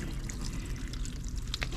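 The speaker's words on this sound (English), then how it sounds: "You just take a good flow of water, put it over there" Low-pressure flow of water rinsing over a Toyota Supra's freshly coated paint, a soft continuous splashing and trickling with faint droplet patter, fairly quiet and without talk.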